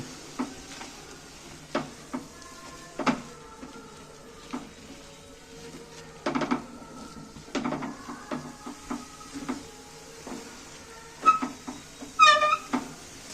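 A cup of semolina is stirred in a pan for carrot kheer mohan, with soft scraping and intermittent clinks of the utensil against the pan, and a faint sizzle underneath.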